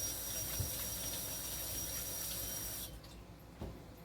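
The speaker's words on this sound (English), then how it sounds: "I'm going to rinse my hands off." Running kitchen tap pouring as hands are rinsed, a steady close hiss of water that cuts off abruptly, followed by a few faint clicks.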